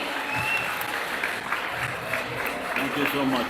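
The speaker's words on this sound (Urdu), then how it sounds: "تالیوں کی گونج سے استقبال کیجیے، ذرا جوش دکھائیے" An audience claps steadily to welcome a guest announced as president of a Pakistani organization at a live recorded event, a dense, even wash of applause filling the hall throughout.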